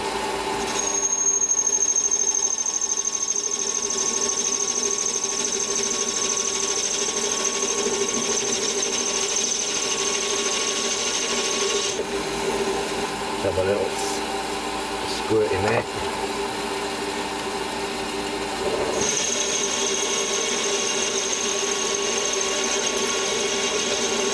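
Mini lathe parting off a piece of metal, a steady close whirring motor hum with a high-pitched cutting whine that drops out briefly midway, with people talking over it.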